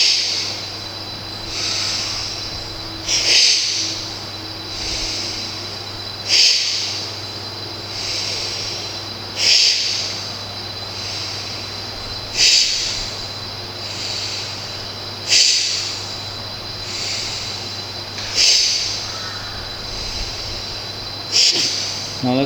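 Slow, full breaths during a breathing exercise, with a forceful squeezing exhale repeating roughly every three seconds in a steady rhythm over a constant low hum.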